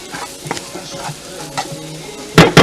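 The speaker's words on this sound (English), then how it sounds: "our curry paste would have fried up nice here." Curry paste fries in a pot for a Guyanese hassar curry, with a light sizzle and occasional stirring scrapes, ending in two louder clatters near the close.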